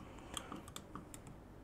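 Button clicks on a Battlestar 200W TC box mod, a handful of crisp, sharp little clicks in quick irregular succession, close up and fairly faint over a low steady hiss.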